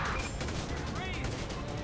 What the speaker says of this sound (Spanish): Que no le temen a los disparos, amigos.